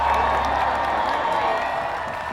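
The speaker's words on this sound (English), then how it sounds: "the team walks out to a cheering crowd" A crowd cheering and applauding outside a hearing as a team walks out, a steady wash of voices and clapping that slowly fades, with no distinct speech on top.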